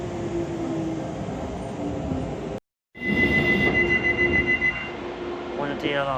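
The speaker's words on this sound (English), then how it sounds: "On a DLR now." A DLR light railway train runs at night, a loud rumbling rush of wheels with sustained squealing tones, briefly cut to silence before resuming, and a voice speaks over it.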